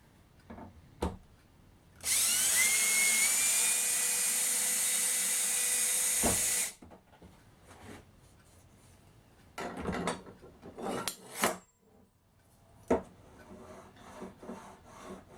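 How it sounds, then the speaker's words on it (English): Wood being drilled and rubbed with tools while building floating shelves, a loud continuous grinding burst near the start, then scattered scraping and knocking strokes. "One problem with the brace is you have to make this noise yourself every time you want to start it up."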